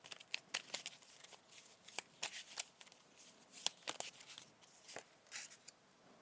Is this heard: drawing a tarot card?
yes